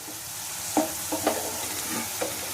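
Vegetables sauté in butter in a pan for a bread veg omelet, giving a soft, steady sizzle with a few light stirring scrapes and taps against the pan.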